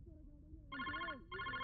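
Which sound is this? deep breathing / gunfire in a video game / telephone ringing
telephone ringing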